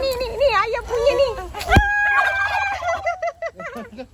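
Chickens at a zoo cluck and crow nearby, a rooster's drawn-out cock-a-doodle-doo rising over repeated clucks, with people talking briefly around them.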